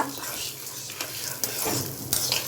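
Dried red bullet chillies fry in hot oil in a home kitchen, with a steady close sizzle and occasional scrapes from a stirring spoon.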